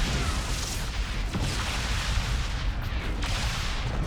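A deep, continuous blasting roar of a Yamato cannon firing at an ordnance tower in StarCraft II, loud and dense throughout, with brief surges of noise and no voices.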